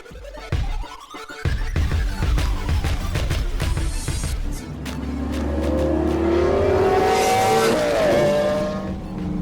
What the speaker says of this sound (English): the exhaust sounds wow, dude